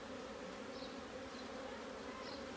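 Honey bees buzz steadily at a queenless hive being opened for inspection, a dense close drone with a few sharper passes of individual bees.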